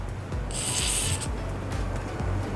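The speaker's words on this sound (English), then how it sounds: "So we're going to spray some now." A short burst of aerosol lubricant sprayed onto an engine's serpentine belt pulley hisses for under a second over a low steady hum, then cuts off.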